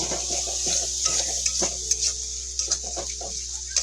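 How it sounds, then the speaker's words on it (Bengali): Soybean and potato with turmeric and spices sautéing in a pan, a soft steady sizzle under repeated close scraping and tapping strokes of a spatula against the pan. "এটা কিন্তু এখন একটু আমি মিনিট পাঁচ মিনিটের মতন একটু কষিয়ে নিব"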